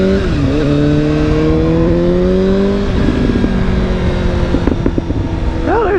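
Suzuki GSX-S750 motorcycle engine revved loudly and held, then dropping off into a few sharp exhaust pops and crackles, close and prominent with no talk.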